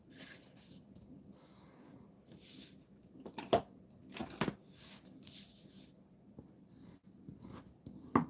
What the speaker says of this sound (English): Let me go ahead and fold and burnish this.